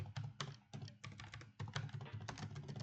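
Rapid typing on a computer keyboard, close and clear, with steady clusters of key clicks and brief pauses, and no voice over it.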